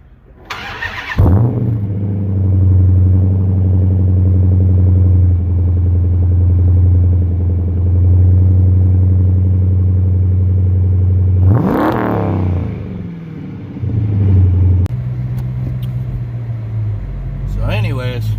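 A 6.5 diesel truck engine cranks on a cold start and catches, then settles into a steady, loud diesel idle with a low rumble; a second brief crank-like burst follows later.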